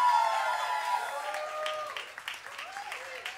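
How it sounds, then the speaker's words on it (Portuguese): A crowd at a samba performance in Campo Grande, Mato Grosso do Sul applauds the singer with a soft, steady patter of clapping, moderately distant and fading slightly over a few seconds. "Uma salva de palmas"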